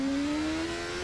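A BMW S1000RR superbike accelerates hard on a road course in the TT Isle of Man racing game, its engine holding a loud, steady, rising high-pitched whine over a short stretch.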